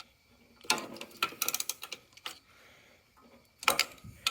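A hand ratchet loosens the 10mm valve cover bolts on a Husqvarna LTH 18538 riding mower engine, giving close, quick runs of crisp pawl clicks in several short bursts with pauses between.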